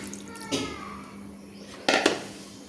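Washed split moong dal is tipped into hot water in a pot on the stove, two short close splashy pours over a faint steady hum.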